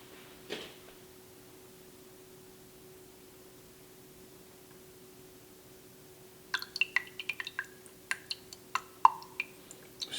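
Water drips into a glass of absinthe in a quiet room: after one early splash, a run of small, irregular plinks and drops falls close by over a faint steady hum.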